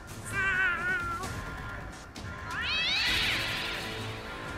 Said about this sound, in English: I just let more cats out